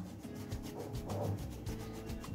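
Soft, steady rubbing of a rolling pin flattening potato and sabudana batter on a chop pad, a continuous low scraping with slight rhythmic swells and no talk.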